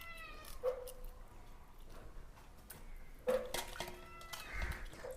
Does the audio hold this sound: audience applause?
no